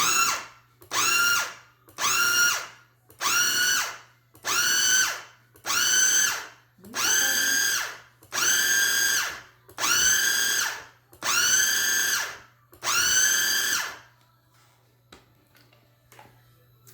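A food processor mixes pumpkin cheesecake batter in about ten short, loud whirring pulses, each roughly a second long with brief gaps between. The motor then stops, leaving quiet.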